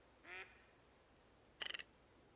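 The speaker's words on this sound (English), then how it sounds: "Those ones aren't even real ducks." Ducks quacking in the hunting video game theHunter: Call of the Wild, one short quack followed after a pause by a quick burst of four or five quacks, faint and a little distant against a quiet background.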